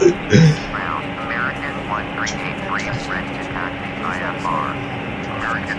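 Boeing 737-900ER airliner in Microsoft Flight Simulator, a steady broad jet engine hiss and hum on the runway with faint radio chirps, people talking over it.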